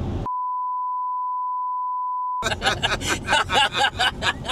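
A steady, pure censor beep holds for about two seconds after a cut-off word, then gives way to laughter and lively chatter.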